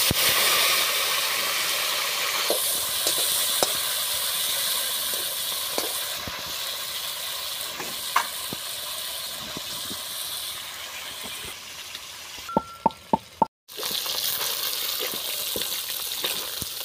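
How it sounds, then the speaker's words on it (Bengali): Fish head, from a rohu, frying in a little oil in a kadai: a steady broad hiss and sizzle runs throughout, with a few sharp clicks and a brief dropout near the end before the sizzle resumes. "মাছের মুড়োটা আমি ভেজে নেব"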